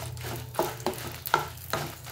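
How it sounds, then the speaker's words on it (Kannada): Fenugreek seeds fry in a pan for a bitter gourd gojju, a soft sizzle broken by several light scraping strokes of stirring at a steady pace. "ಹಾಕೊಂಡು ಚೆನ್ನಾಗಿ ಫ್ರೈ ಮಾಡ್ಕೊಳ್ಳೋಣ."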